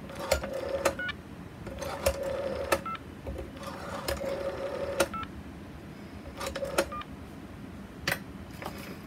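Faint mechanical clicking and whirring of a 1960s rotary phone dial turning and spinning back, several dial pulls in sequence against a quiet room hiss.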